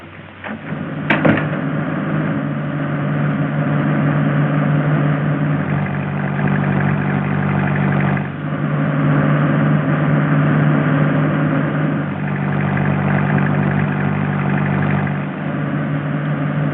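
A car engine runs steadily while driving, with a continuous low mid-pitched hum at a nearly constant level, muffled and old-sounding, and no talking.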